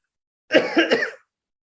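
A short burst of three quick coughs, close and clear, in otherwise silent surroundings.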